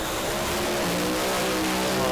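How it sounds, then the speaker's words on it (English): Pro Alcohol funny car engine revving hard through a burnout at a drag strip, a steady loud roaring drone that climbs in pitch partway through, with no talking. "look at the vibrations inside that car through the burnout"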